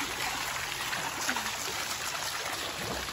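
Water poured or trickling in a continuous splashing, gurgling stream, steady and close, with faint background noise.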